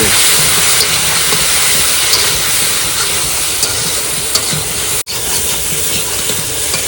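Spices with cumin powder and turmeric sauté in a hot pan, giving a loud, close, continuous sizzling hiss with faint stirring ticks and one brief break near the end; no one speaks.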